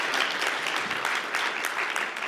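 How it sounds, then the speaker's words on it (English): A conference audience claps loudly at an open-mic session, a short burst of dense, even applause with no pause. "How loud can you clap?"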